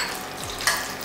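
Turmeric hits hot oil in a pan for masala murmure, producing a brief close sizzle with a slight stirring rustle and a small sharp spike near the end.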